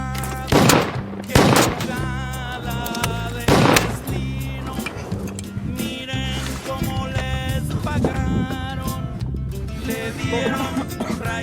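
Gunfire in a narco drama: a few sharp, loud shots, two close together near the start and another a few seconds later, cutting through steady background music.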